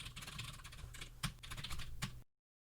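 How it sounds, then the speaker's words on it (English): Rapid typing on a computer keyboard as code is entered into a Julia REPL, a quiet run of light, irregular key clicks with a few sharper strokes, heard alone. "Let's try typing in some code."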